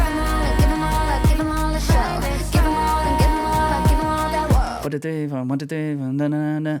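A musical passage with a punchy, rhythmic beat and sustained tones, ending in a smoother, drawn-out vocal-like section.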